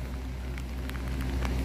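Rain falls during a train journey through mountains, a steady dense hiss of drops with low rumbling underneath and a few sharper taps, continuous throughout the brief moment.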